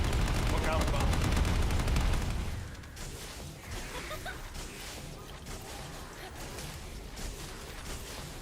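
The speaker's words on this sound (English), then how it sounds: "Descendant, air support is standing by. On your signal, we'll initiate suppressing fire." Heavy suppressing gunfire from air support in the video game The First Descendant, a loud rapid machine-gun burst for about two seconds, then fading into a rumbling barrage of distant shots.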